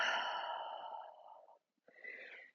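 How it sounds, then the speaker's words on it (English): A long, breathy exhale during a Pilates exercise on a reformer with a short box, close and soft, trailing off before a short pause and a second gentler breath. "Exhale."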